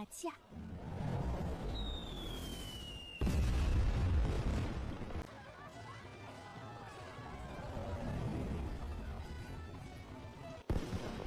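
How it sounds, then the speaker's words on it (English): Fireworks burst over a busy scene in an ancient Chinese setting, with a whistling rocket climbing, then a thick rumbling wash of pops and booms that rolls on and on, fairly distant and continuous. "Fireworks. Fireworks are going off."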